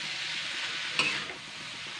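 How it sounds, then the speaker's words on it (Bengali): Boiled chowmein noodles are stirred and lightly fried in a pan, giving a soft, continuous sizzle with one brief scrape of the utensil partway through. "এবার এটা দিয়েও কিন্তু আমি আবারও 3-4 মিনিট ভালো করে কিন্তু নাড়াচাড়া করে নেব।"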